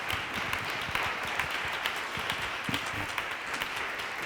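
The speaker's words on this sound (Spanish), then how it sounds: "le damos un fuerte aplauso" A crowd at a round-table employment event applauds to welcome a panelist, producing a continuous, even wash of clapping that holds steady throughout.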